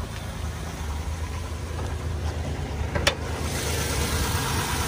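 A 1999 Mitsubishi 3000GT engine idles steadily at close range, a low continuous rumble with a brief sharp click partway through.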